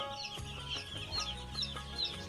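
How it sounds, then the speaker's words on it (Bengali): A batch of soft, one- to two-day-old broiler chicks peeps continuously in high, thin chirps that repeat in quick bursts. A low hum runs steadily beneath them. "এই মুরগির বাচ্চাটা হচ্ছে খুবই নরম এবং ছোট একটি মুরগির বাচ্চা"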